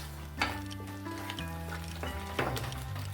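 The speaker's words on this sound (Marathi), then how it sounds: "बारीक गॅसवर आपल्याला छान असं तेल सुटेपर्यंत हे आता परतून घ्यायचं आहे." Masala gravy with corn and capsicum sautés in oil over a low flame, a soft steady sizzle running close and unbroken, with a few spoon scrapes and stirs against the pan.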